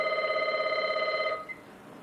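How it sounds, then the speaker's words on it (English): A telephone bell rings steadily with a bright, sustained electronic tone for over a second, then cuts off abruptly, leaving a quiet room hush. "rang the phone"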